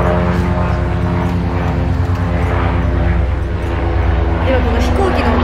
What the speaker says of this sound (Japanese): 今この飛行機の音でさ、大事なとこ聞こえなくなるやつ